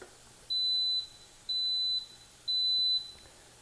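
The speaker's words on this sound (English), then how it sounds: "Sometimes it makes a ding or a beeping sound" A waffle maker beeps when ready: three identical electronic tones of about half a second each, evenly spaced about a second apart, clear and fairly close over a quiet room.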